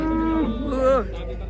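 A large cow moos once, loud and close, a drawn-out tonal call during unloading from a truck at a cattle contest, with faint background noise around it.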